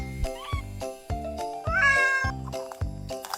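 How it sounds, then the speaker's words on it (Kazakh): A cat meows several times in a rhythmic run, set against a bright children's song with musical backing and no talking. "Мысық."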